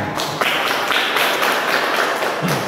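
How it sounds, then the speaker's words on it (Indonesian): Students in a classroom clapping for everyone, a short burst of brisk applause from a group, fairly close and steady for a couple of seconds before tapering off. "Tepuk tangan untuk semuanya"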